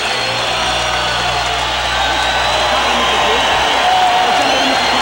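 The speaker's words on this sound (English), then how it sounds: "the crowd cheering right now for Ernie Chavez" Boxing arena crowd cheering for boxer Ernie Chavez after his bout with Meldric Taylor, a dense steady roar of many voices with whoops, continuous and loud with a low hum underneath.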